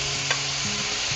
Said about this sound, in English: The onions have been going for about 3 minutes. I'm going to add in the carrots